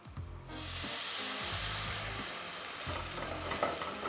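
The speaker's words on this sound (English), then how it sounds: "And now we're just gonna add about 100 mils of white wine." About 100 ml of white wine hits a pan of garlic and chili oil, and a loud, hissing sizzle rises and holds, with scraping stirs underneath.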